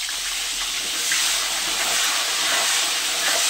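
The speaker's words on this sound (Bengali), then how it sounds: "উচ্ছেগুলো দিয়ে দিয়েছি তেলের মধ্যে" A steady, loud sizzle of bitter gourd frying in hot oil, a continuous hiss with no pauses.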